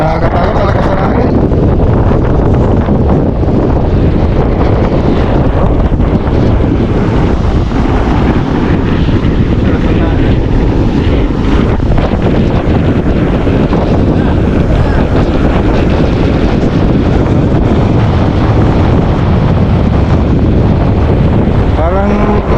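Strong wind buffets the microphone near the sea at Currimao, Ilocos Norte, a loud continuous roar with gusts throughout, with faint boat and surf sounds underneath.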